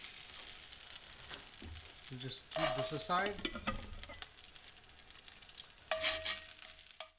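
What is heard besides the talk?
chilies stir frying in a hot pan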